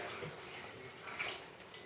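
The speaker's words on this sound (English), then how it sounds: "This is approximately a cup of milk or a half a pint. We're going to pour it in there." About a cup of milk pours into sweet potato pancake batter, a soft, steady liquid gurgle close by that lasts under two seconds with no talking.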